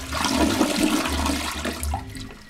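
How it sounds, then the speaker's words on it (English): A household toilet flushes with a loud, steady rush of water that swirls and fades over a couple of seconds, heard alone with no voices. "And we're gonna flush."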